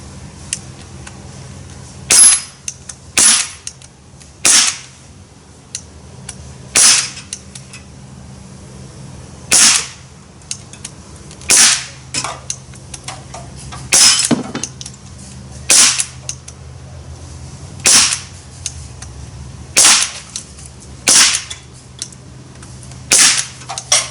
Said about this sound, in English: Take a few more shots with a Wildfire.